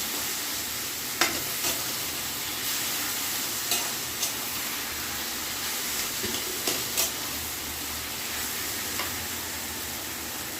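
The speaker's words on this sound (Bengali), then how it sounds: "একটু স্লোতে গ্যাসটা একদম স্লো করে দিয়ে দশ মিনিট মতো নাড়লে শাকটা হয়ে যাবে" Taro leaves cooking in a pan over a low gas flame, with a steady frying sizzle and hiss throughout and occasional soft scrapes of stirring.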